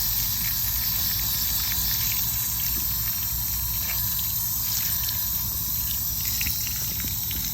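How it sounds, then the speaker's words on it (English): Water runs continuously over a Shark Duo Clean vacuum cleaner filter as it is rinsed, a steady, close hiss and patter of trickling water with no break. "You can see the water that's coming down, like the color of the water is changing, taking off all the dirt."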